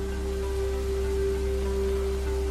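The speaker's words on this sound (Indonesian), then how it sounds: "Perlahan suara hujan mulai reda" Steady rain falls as an even, unbroken hiss, with a low constant hum beneath it and no voices.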